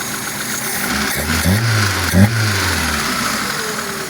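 A UAZ 2.5 engine fitted with a rebuilt Solex carburetor runs steadily at close range, a low rumbling idle with a couple of brief blips of the throttle and no talk over it.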